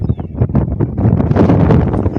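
Strong wind gusts buffet the microphone at the Diu jail, a loud, continuous roar that rises and falls slightly with no voices.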